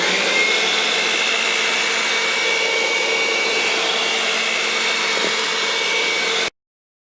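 An electric hand mixer beats eggs into plum cake batter with a steady, loud, continuous whir that cuts off abruptly at the end.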